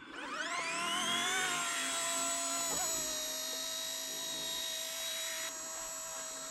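An ERA-RC C189 MD500 radio-controlled model helicopter spools up and hovers, a high steady electric whine with rising rotor tones that settle into a constant pitch, close and loud without talk.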